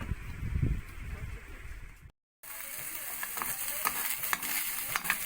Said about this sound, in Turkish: Ocağa kıyma koyduk